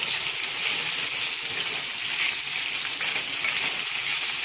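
Potatoes frying in oil with garlic over slightly higher than medium heat: a steady, loud, dense sizzle and crackle that continues unbroken throughout, with no voices.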